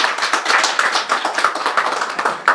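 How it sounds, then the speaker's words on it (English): A crowd at a chilli export flag-off event applauds, with dense, loud, steady clapping close by that carries on unbroken for the whole stretch. "I request all of you to give a big hand of applause for this appeal."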